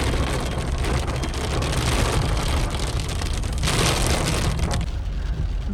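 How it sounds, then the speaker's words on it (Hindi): Steady, dense broadband hiss of heavy rain pouring down on a car on a mountain road with falling stones, loud and continuous throughout with a low rumbling undertone. "बारिश शुरू हो गई है यहाँ पे, और वो भी ज्यादा मोटी मोटी बारिश।"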